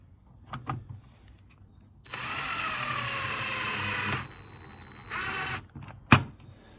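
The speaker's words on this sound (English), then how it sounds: "Next thing we want to do is screw in these T10 screws." Power screwdriver driving T10 screws into the climate control unit of a 2008–2015 Toyota Avensis T270 D4D, two steady whirring bursts of about two seconds and half a second, with small clicks and a knock around them.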